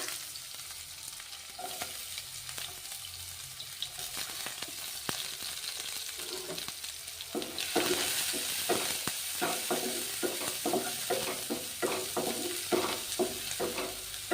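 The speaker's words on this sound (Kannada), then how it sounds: "ಸಾಸಿವೆ ಹಾಕೋಣ, ಚಟ್ಪಟ ಅನ್ನಲಿ. ಈಗ ನೋಡ್ರಿ, ಇದಕ್ಕೆ ಈರುಳ್ಳಿ ಹಾಕೋಣ." Cumin and mustard seeds crackling in hot oil, then chopped onion added and frying, a soft steady sizzle that turns louder and busier midway, with scattered pops and stirring scrapes close by.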